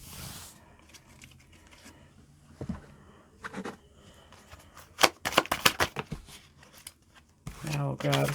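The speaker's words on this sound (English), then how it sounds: "I'm going to grab 3 cards of each deck, and I have 3 decks here" Oracle cards being shuffled by hand, a soft papery riffle coming in bursts, with quiet gaps and a louder flurry of card slaps near the end, close and fairly faint.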